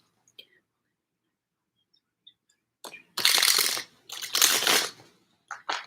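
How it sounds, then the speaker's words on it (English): Tarot cards being shuffled by hand come through as a few close, crisp riffling bursts with soft rustles in between, after an almost silent start. "That was a horrible shuffle."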